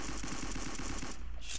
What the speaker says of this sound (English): Oh, it's a MG.